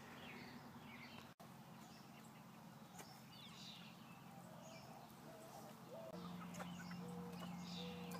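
A broody hen clucks softly among her chicks, with repeated low clucks and faint high peeps over a quiet outdoor background, and a sustained tone entering partway through.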